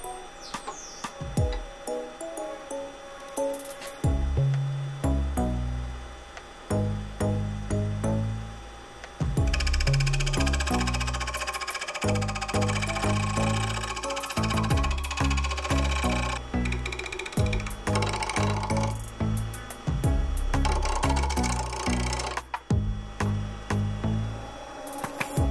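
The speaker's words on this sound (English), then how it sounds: "So now I am going to try to use the hollowing tool" A hollowing tool cuts into a spinning turned piece on a lathe, giving intermittent grinding, scraping bursts with steady motor hum between, loud and close, no talk.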